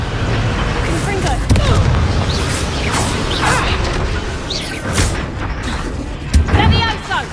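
Confringo fire spells blast repeatedly during a dragon-rescue fight in Hogwarts Legacy, loud booming impacts and crackling bursts layered over battle noise, with voices shouting through the clamor.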